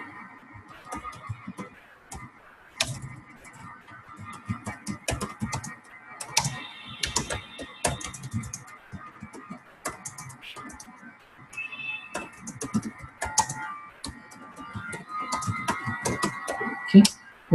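Computer keyboard typing in irregular bursts of close, crisp key clicks while coding Python functions, with pauses between flurries and no talking.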